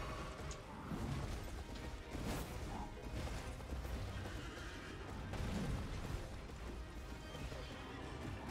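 A horse neighs amid the clashing, crashing din of an Elden Ring boss fight, a whinny rising over continuous loud combat noise with heavy impacts throughout.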